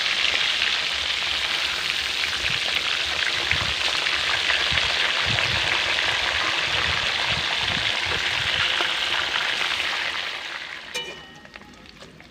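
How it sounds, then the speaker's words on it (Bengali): Fish heads fry in hot oil in a wok with a loud, steady sizzle and crackle that runs continuously before fading near the end. "তেলটা গরম হয়ে গেছে, এবার মাছের মাথাগুলোকে এক এক করে তেলে দিয়ে দিচ্ছি।"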